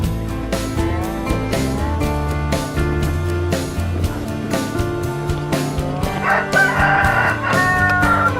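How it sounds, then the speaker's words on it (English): Chickens on a farm in winter, with a rooster crowing over a dense backdrop of clucking and layered sound, loud and close throughout and swelling toward the end. "You ready to feed the chickens?"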